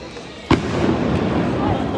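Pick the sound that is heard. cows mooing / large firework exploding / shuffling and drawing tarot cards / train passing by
large firework exploding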